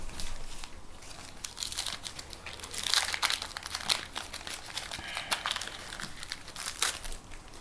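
Foil wrapping on a trading card booster pack crinkles and tears close up, in a long run of irregular rustles and crackles with no talking.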